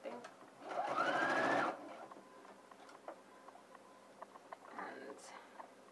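A sewing machine stitches a welt pocket in a short, loud burst of motor whir, followed by quieter clicks and handling noises and a second brief, softer run near the end.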